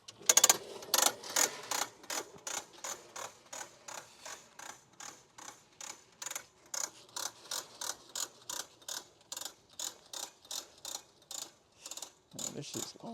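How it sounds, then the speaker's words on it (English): A mobile detailer's hose reel unrolls in a steady run of rapid ratcheting clicks, regular and fairly close, continuing for several seconds with no talking. "I need to fix this hose reel, man, because rolling out all the hose reels kind of sucks sometimes"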